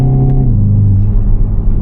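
A 2024 Hyundai i30N hot hatch, 206 kW, driving at night, its engine and exhaust giving a loud, steady low rumble close up from inside the car, with no talk.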